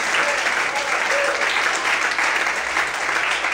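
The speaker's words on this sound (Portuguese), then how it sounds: "Será a Deus aplaude mais forte, aleluia. Aplaude o Senhor" A church congregation applauds steadily through the whole stretch at an even, dense level, with faint voices mixed in underneath.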